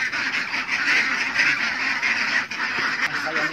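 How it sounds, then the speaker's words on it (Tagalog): Domestic ducks quack and honk together as they feed eagerly on snails, a steady, dense flock chorus close by with no break in the calling. "nandito na tayo sa mga itik natin"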